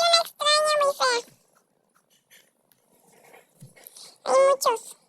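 Dogs in a video game give several sharp, high, squeaky yelps and barks in quick bursts, separated by near silence, with faint background game sounds.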